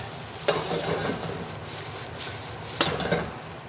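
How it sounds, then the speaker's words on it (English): Shrimp fried rice tossed in a wok, a soft steady sizzle under scattered clinks and two sharper metallic knocks of utensil against pan, with no talking. "Shrimp cooking down nice and quick."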